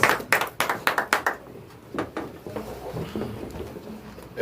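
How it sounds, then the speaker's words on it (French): A church congregation claps hands in praise during a service, a burst of quick overlapping claps up front that thins into scattered patter and softer claps toward the end. "On acclame la parole du Seigneur"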